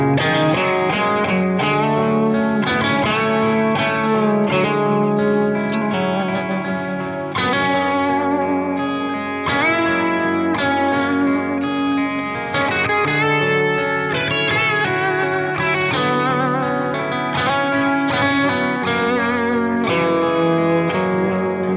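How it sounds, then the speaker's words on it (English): Telecaster electric guitar in a low alternate tuning strumming a chord progression, loud and continuous with heavy chorus and echo effects, rich ringing chords changing every couple of seconds, no voices. "Everything you play in that kind of tuning with the Telecaster sounds so different"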